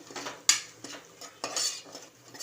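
Spices being stirred in a pot for dal khichdi, with a spoon clinking against the metal in a few sharp scrapes and taps, close and fairly quiet, and no voices.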